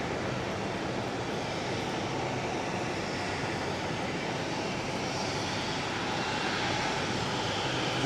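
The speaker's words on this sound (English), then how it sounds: "We are getting a CRJ" A CRJ regional jet airliner roars steadily at Sky Harbor airport, a loud broadband engine rush holding constant and swelling slightly near the end, with no talk over it.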